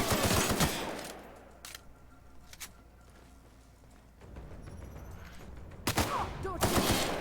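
Bursts of gunfire from The Outer Worlds video game: a loud, rapid volley opens, a few sparse shots and quieter ambience follow, then another close, heavy burst near the end.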